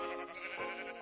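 Sheep bleating in the Minecraft video game, a single sustained, wavering bleat lasting about a second at moderate loudness, with no talking over it.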